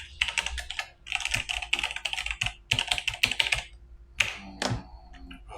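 Quick bursts of clicking keystrokes on a computer keyboard, several short runs of typing with brief pauses in between, close and clear with no talking.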